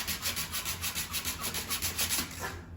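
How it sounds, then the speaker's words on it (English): Sandpaper wrapped on a stick rubbed back and forth over a dented car body panel gives steady, rhythmic scratchy strokes, about a dozen in quick even succession, close and alone. "get a piece of sandpaper on a stick and go like this"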